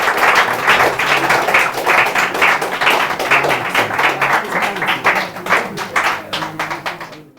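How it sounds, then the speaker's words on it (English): Audience applause at a Ghanaian National Bible Bee church quiz contest: loud, steady clapping from a crowd fills the whole stretch, dense and sustained before tapering slightly at the end. "Let's give them a round of applause."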